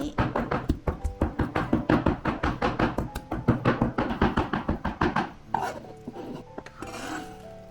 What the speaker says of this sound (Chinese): 再剁成肉泥